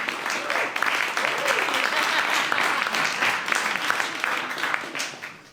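An audience at a startup pitch showdown applauds steadily, with dense, sustained clapping that carries on without a break while a host speaks over it.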